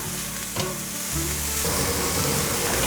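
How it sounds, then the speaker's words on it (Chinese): Carrots and enoki mushrooms stir-fried in a wok, with a steady loud sizzle and the scrape of a spatula tossing the vegetables, all without talking. "现在放入红萝卜， 继续翻炒。"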